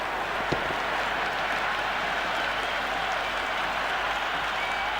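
A stadium crowd in the Cricket 26 video game during a T20 World Cup match roars and applauds in a dense, continuous wash, loud and sustained for the whole stretch without a break.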